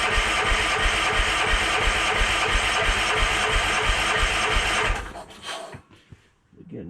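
A Case 444 tractor engine runs fed from a temporary fuel can, idling loud and steady with a dense rumble for about five seconds, then sputters and quits, leaving faint shuffling.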